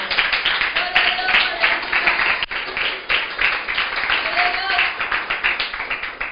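A church congregation claps together in a rhythmic, pulsing pattern, many hands striking in loose unison at close range, with voices mixed in underneath.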